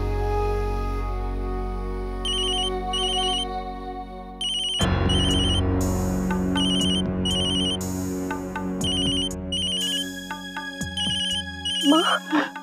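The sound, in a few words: telephone ringtone, call from home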